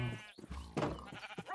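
Minecraft sheep bleating in a short burst of several wavering bleats, fairly close and clear, with a few overlapping calls and no talk over them.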